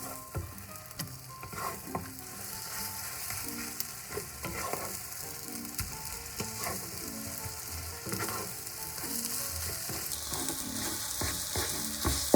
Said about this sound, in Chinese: 嫩鸡蛋炒好了